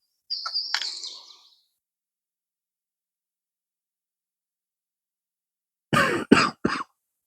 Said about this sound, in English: Glad when his stupid cough goes away.